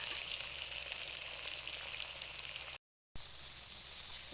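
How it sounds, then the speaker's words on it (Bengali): Beans and carrots sizzle and fry steadily in a pan while cooking chowmein, making a dense, even hiss close by. A brief silent gap breaks it before the sizzle resumes. "দিয়ে ভাজতে থাকি ভালো করে"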